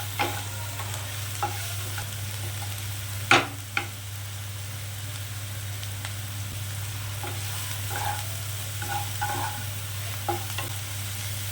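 Onions frying and being stirred in a pan for coriander chicken, a continuous low sizzle broken by scattered scrapes and a couple of sharp knocks of a spoon against the pan, no voices.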